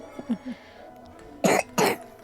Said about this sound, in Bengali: সে কাশতেছে।